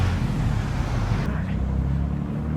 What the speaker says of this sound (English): I wasn't expecting this much traffic.